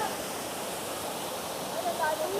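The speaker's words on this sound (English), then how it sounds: "Look at that. Bokong Waterfalls." Bokong Waterfalls roars as a constant, even rush of falling water, dense and close, with faint voices under it.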